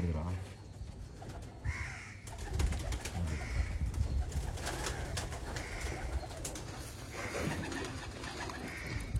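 Pigeons for sale in Bangalore coo and call continuously, a layered throaty chorus with occasional harsher caws, while people talk nearby across the whole stretch.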